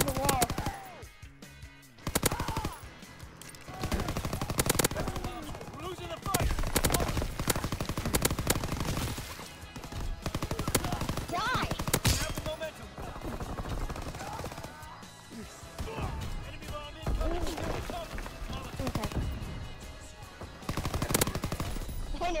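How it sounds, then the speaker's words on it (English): Call of Duty WW2 multiplayer gunfire, dense bursts of rapid automatic fire and single shots with crashing impacts, loud and near in stretches with short gaps, while players talk over the shooting. "I shot him through the wall."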